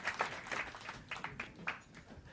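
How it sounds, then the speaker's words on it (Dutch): Quiet, distant audience applause for guests at a landscape event: scattered, uneven claps from a modest crowd, faint and fairly sparse over the whole stretch. "Wil graag even nog een applaus voor uw gasten"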